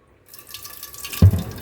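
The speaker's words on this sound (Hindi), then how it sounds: "एक बार और अच्छी तरह धो लूँगी।" Water splashes and drips as a clay curd pot is rinsed, a brief trickle ending in one louder splash near the end of the short clip.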